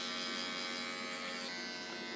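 Electric hair clippers fitted with a guard, cutting a fade: a steady close mechanical buzz running unbroken throughout, fairly loud and alone.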